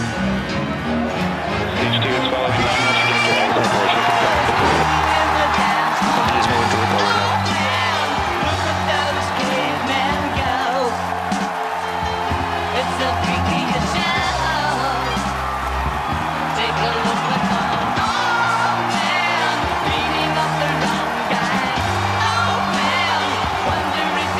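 A large crowd cheers and whoops continuously at a Falcon Heavy rocket launch broadcast, a dense roar of voices that stays loud and steady throughout.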